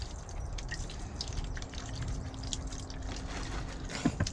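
Water drips and trickles inside a propagator reservoir as seedlings are watered, soft, close splashes over a faint background hum, with a few sharper drops near the end.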